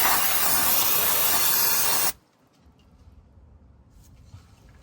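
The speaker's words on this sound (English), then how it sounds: "Hit it with a little brake cleaner here." Brake cleaner sprays in a loud, steady aerosol hiss onto a Ram 2500 transfer case with a 6.4L HEMI for about two seconds, then cuts off abruptly, leaving quiet garage room tone.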